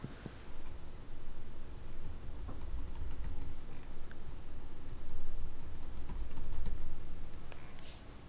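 Irregular clicks of typing on a computer keyboard while a Windows search bar is used, steady light taps over a low background hum, close and fairly quiet throughout.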